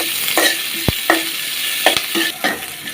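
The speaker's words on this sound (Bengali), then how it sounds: "পেঁয়াজ কুচি দিয়ে দিলাম।" Chopped onions fry in hot oil in a pan while being cooked for a pangas fish curry, a steady sizzle broken by several sharp spatula scrapes and stirring taps.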